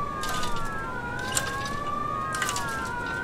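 Overlapping police sirens wail steadily in the video game Mafia Definitive Edition, their pitches sweeping slowly up and down at mid distance, with faint background noise and no talking.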